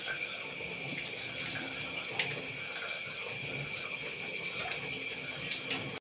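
Tap water runs steadily into a sink while tilapia fish are washed, a constant moderate splashing hiss with occasional faint clinks, lasting about six seconds.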